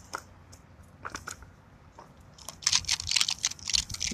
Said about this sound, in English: He's got that nice ASMR crunch.